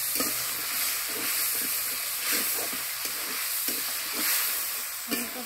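Fried spice paste is stirred and sautéed in a pan. A soft continuous sizzle runs under rhythmic scraping strokes of a spoon, heard up close with no voices.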